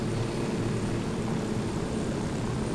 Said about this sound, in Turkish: özel helikopterin geldi gel